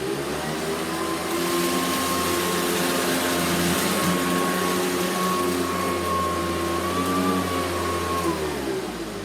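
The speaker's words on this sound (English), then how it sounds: "We're going to start with the Hoover Decade 800," A Hoover Decade 800 heavy-duty vacuum cleaner runs steadily and loudly for the whole stretch, a constant motor drone with a sustained whine and no voices.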